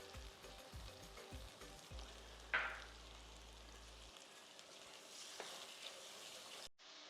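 Tamarind water poured into a hot pan of garlic kulambu, a steady sizzle and crackle with a sharp burst as the liquid hits, then softer bubbling and frying noise before it cuts off near the end.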